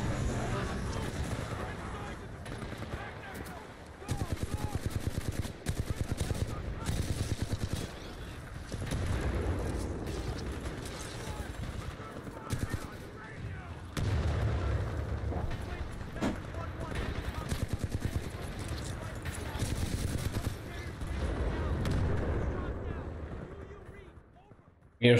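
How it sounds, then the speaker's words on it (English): Airstrike explosions in Titanfall 2 rumble and boom in repeated heavy bursts, swelling and fading across the span with deep low-end weight, while a voice talks excitedly over parts of the chaos. "Airstrike. It was like an airstrike."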